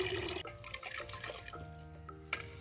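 Water splashes and gurgles as it is poured into a cooking pot for Bengali jeera rice, a close, continuous liquid rush with sloshing, no talking.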